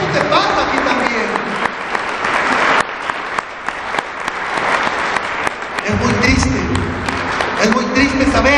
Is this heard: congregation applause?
yes